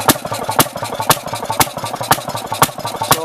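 A Fairmont QB6 RR engine runs steadily close by, each loud firing beat landing about every half second over a continuous low mechanical chug.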